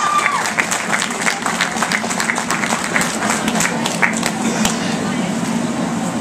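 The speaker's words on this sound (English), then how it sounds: "Give them a round of applause." Crowd applause for contestants at the Miss I-500 2012 pageant, a loud, sustained wash of clapping with a few sharper claps standing out and some crowd noise mixed in.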